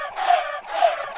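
Minecraft chickens cluck in two quick, bright bursts, close and fairly loud, with no talking over them.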